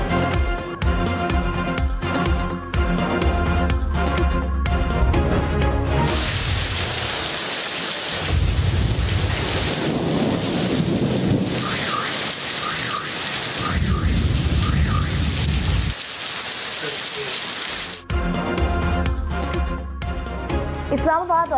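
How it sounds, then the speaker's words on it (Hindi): Heavy rain pours and thunder rumbles over Islamabad and Rawalpindi, a loud dense downpour with deep rolling booms, cut between stretches of news broadcast audio with music and talk at the start and end. "इस्लामाबाद और रावलपिंडी में बादल बरस पड़े"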